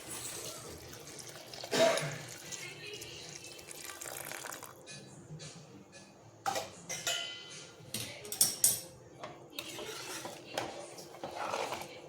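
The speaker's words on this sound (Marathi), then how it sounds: "आता मी ह्याच्यामध्ये घालणार आहे पाणी" Water pours into a pot of pudina (mint) rice in a home kitchen, a steady splashing with a few sharper clinks of cookware partway through. No voice is heard.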